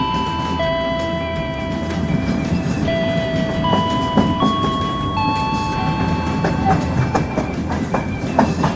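A commuter train pulling into a station, with steady rumbling and wheel clatter, high metallic brake squeals rising and shifting, and faint background noise, heard close from on board.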